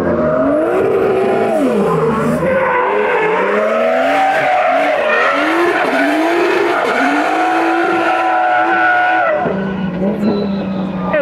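Loud, sustained tire squeal from a car drifting, with wavering screeching pitch over roaring engine noise, close and continuous before easing off near the end.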